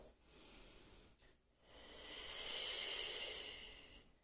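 One slow, deep breath during a stretching exercise: a soft nasal inhale, a pause, then a longer, breathy exhale that swells and fades, close and quiet.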